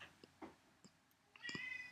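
An indoor cat lets out a short, faint meow near the end, preceded by scattered soft clicks and taps in a quiet room.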